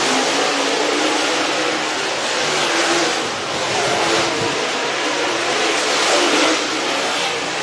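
Dirt race cars roar around the Sugar Creek Raceway speedway during a Dirt Draft hot lap session, a continuous loud engine drone that swells and eases as the cars circle the track.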